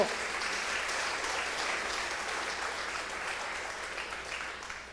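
Steady applause from a sizable crowd, sustained and even throughout, slowly tapering near the end.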